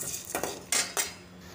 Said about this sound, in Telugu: ధనియాలు కొన్ని, పచ్చిశనగపప్పు కొంచెం, కొంచెం జీలకర్ర, క్రిస్పీగా అయ్యే వరకు ఉంచుకుందాం.